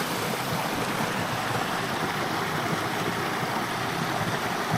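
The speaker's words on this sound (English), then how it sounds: "I've got this little waterfall here, just making up some foreground interest with the ice on the rocks there." Small waterfall spilling over ice-covered rocks in the Lake District, a steady, full rushing wash of water heard close and alone throughout.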